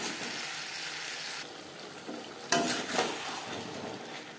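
Katla fish curry with flat beans and a little water gets stirred in a pan, a steady soft sizzle broken by a few scraping strokes in the second half.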